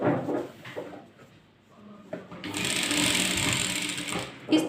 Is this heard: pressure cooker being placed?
no